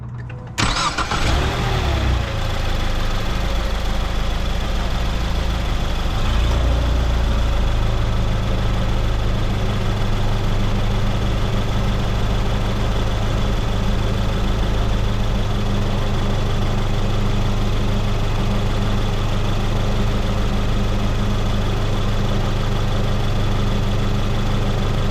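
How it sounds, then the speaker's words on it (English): A 2014 Ford Fusion starts up and idles with the steering held at full left lock, a loud steady engine drone with a low hum running throughout, no distinct popping standing out. "let me start it up, and I'll turn it to the full left lock and see what happens here."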